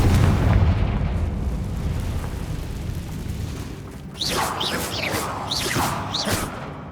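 Confringo, an explosive fire spell in the video game Hogwarts Legacy, booms loudly at the start, then a run of sharp bursts and crackling pops follows through the second half, with no talk.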